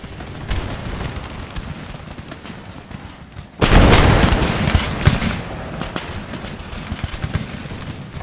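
Line of musket men firing a massed volley in Empire: Total War: a single loud, crashing burst of many shots erupts over battlefield ambience and decays into scattered crackling.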